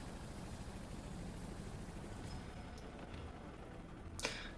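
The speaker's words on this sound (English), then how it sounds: "We've got choppers inbound to pick you up." A helicopter arrives in the video game Ghost Recon Future Soldier as a faint, steady rotor and engine wash, ending with a sharp click, with no talking.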